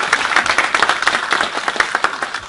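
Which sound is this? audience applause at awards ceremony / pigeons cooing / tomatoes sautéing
audience applause at awards ceremony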